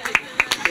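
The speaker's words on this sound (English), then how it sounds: "Yes, we'll give you a round of applause." A handful of sharp, separate hand claps from a small outdoor audience in a garden, spaced unevenly at close range over a low background hum.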